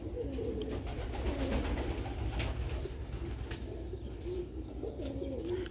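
Sialkoti pigeons on a rooftop give soft, low, repeated coos at a moderate distance, rising in a few rolling phrases over a constant hiss of background noise.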